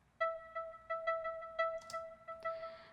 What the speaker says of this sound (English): And then we have this busy chords, which sounds like this.